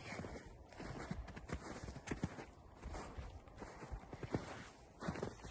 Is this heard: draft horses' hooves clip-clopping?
yes